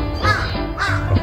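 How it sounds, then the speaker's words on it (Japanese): Two loud, harsh caws from a nearby crow in the early morning, one after the other, with a short third call at the end. "カラスの鳴き声大きいね。"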